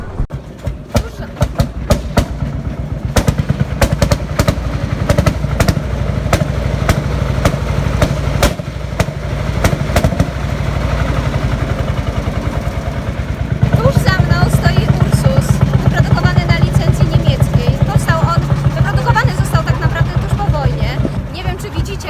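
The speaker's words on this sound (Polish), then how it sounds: "jak cały ten ciągnik się rusza, aż wibruje" A large tractor engine idles and throbs at a classic car meet, a loud, steady rhythmic chugging that grows heavier and more forceful partway through, with voices talking over it.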